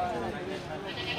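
Sheep bleat at a livestock market selling sacrificial animals during a foot-and-mouth disease outbreak, a faint wavering cry over a steady murmur of background noise.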